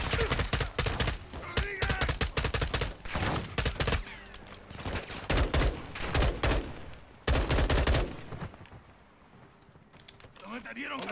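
Dense gunfire from a Modern Warfare 2 campaign firefight in a forest, with rapid automatic bursts and heavy volleys close and loud almost throughout, easing near the end, and voices speaking over it.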